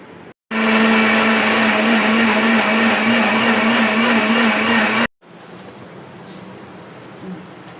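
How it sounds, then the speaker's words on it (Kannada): A mixer grinder blitzes a pumpkin mixture with water in one loud, steady high-pitched whirring burst lasting about four and a half seconds, then stops abruptly, leaving quiet kitchen room noise. "ಗ್ರೈಂಡ್ ಮಾಡಿ ತಗೊಂಡು ಬರೋಣ ಆಯಿತಾ"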